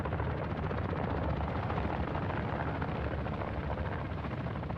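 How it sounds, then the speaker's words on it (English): A helicopter in the video game DMZ makes a steady, dense rotor and engine drone that holds for the whole stretch without a break, fairly loud and with no talk over it. "There is another helicopter somewhere."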